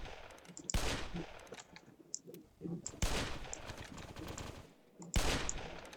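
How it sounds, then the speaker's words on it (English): In a Roblox open-world building and PvP game, bursts of gunfire hit armored ships: three loud rattling volleys, each sustained for a second or more, with quieter game sounds in the gaps. "You just have to shoot at them a little bit."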